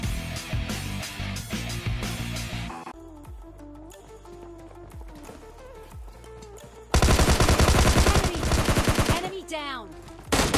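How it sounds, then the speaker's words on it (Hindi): Gunfire in PUBG Mobile Lite during a solo-versus-squad match with an M249, bursts of rapid automatic shots over game music and effects, loudest in a dense volley near the end. "अब यहाँ पर मैं जैसे गन उठा के मारना स्टार्ट करता हूँ बंदों को"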